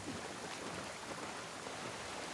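A dog swims through dirty, foul water in The Last of Us Part II, giving a steady wash of splashing and sloshing that stays soft and continuous with no clear individual strokes.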